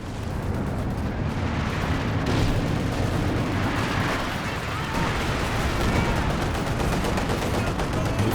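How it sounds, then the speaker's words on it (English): Concentration barrage artillery pounds away in a Company of Heroes 2 match, a dense, continuous roar of overlapping blasts and shell impacts filling the whole stretch with no break. "Good use of the concentration barrage, forcing Joris away once again"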